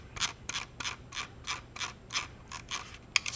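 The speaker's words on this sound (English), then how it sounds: "you can click this and you'll have a clicky scroll wheel" Logitech G903 SE gaming mouse scroll wheel in clicky mode, a steady series of about a dozen crisp, close ratcheting clicks at an even pace, with no other sound.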